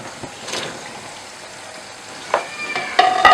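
Cut pumpkin and garlic paste fry in a pan, giving a soft, steady sizzle. Sharper stirring scrapes and crackles come louder near the end. Close up, with no voices.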